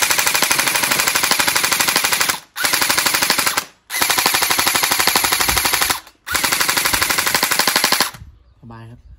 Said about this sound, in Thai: ถ้าใช้แม็ก M4 A1 Gen 9 โอ้ยิงค่อนข้างไกลครับ